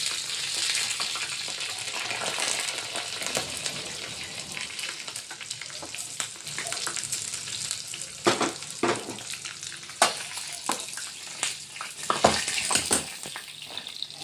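Sliced garlic and green chilies crackle and sizzle in hot tempering oil, a steady close-up frying hiss with occasional sharper pops and stirring noises.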